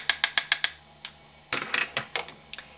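Brush 239 tapping against the Naked 2 eyeshadow palette, a rapid run of five crisp close taps followed by a pause, then another scattered burst of light clicking taps.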